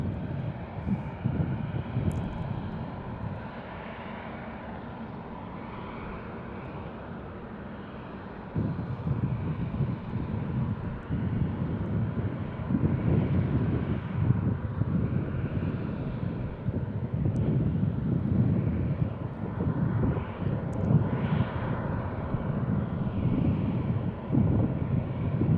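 A Delta airliner, flight 937 from Atlanta, at Tucson International Airport, rumbling as a continuous low engine roar that swells louder partway through, with wind buffeting the microphone and no talking.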